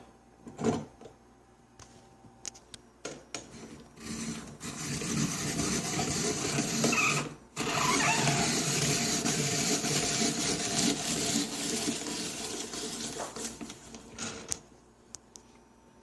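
Apple-processing kitchen device working a whole apple for puree, a few clicks and knocks and then a sustained grinding, whirring churn running for several seconds that breaks off briefly and resumes before fading out, close and fairly loud.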